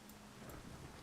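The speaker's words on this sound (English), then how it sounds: "The storm is loud, practically deafening. Periodic thunderclaps roar like distant cannon fire" Heavy rain pours in a dense, steady hiss during a thunderstorm at a dock in the Shadowrun: Hong Kong video game, with a low rumble underneath, loud and unbroken throughout.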